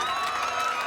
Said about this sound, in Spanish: otro fuerte aplauso para Sol